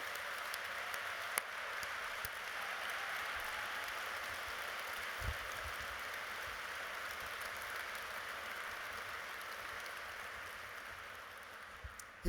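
Applause at an Angels in Adoption gala rolls on as a soft, steady, distant patter from a large audience, holding evenly throughout with no speech.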